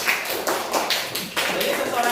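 Classroom applause, a rapid patter of many hands clapping together for about two seconds, fairly close and steady with brief swells, under the hum of a room full of students.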